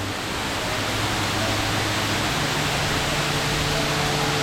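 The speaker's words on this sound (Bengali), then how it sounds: "দেখেন ঝর্ণাটা" Shoingong waterfall roaring steadily, a broad unbroken rush of falling water, loud and close throughout with no voices.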